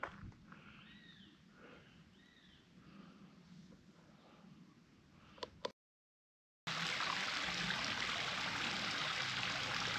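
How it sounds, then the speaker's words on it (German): Water babbles and trickles steadily at a rest stop by the Große Dhünntalsperre reservoir, close and continuous, with a brief dropout midway before the flow returns louder and fuller. "Und es plätschert so schön hier. Hört ihr das?"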